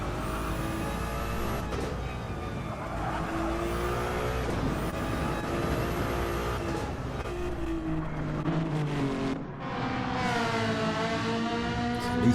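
Ferrari and BMW race cars lapping the Nürburgring Nordschleife in a racing game, engines revving and shifting through gears in a steady loud drone with rising and falling pitch, briefly dipping before surging again.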